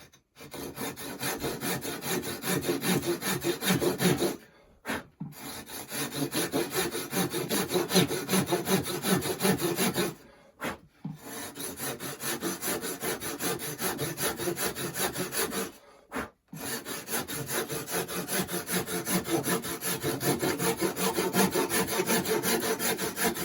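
A hand saw cuts a 45-degree triangle off a wooden patio railing tray piece with rapid, rhythmic back-and-forth rasping strokes. The sawing is close and continuous, broken by three short pauses.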